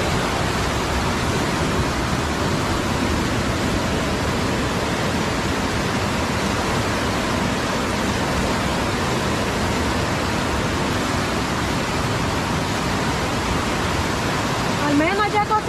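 Floodwater rushes along a riverbank during a rising flood, a steady loud broadband roar without letup, with a brief clatter near the end.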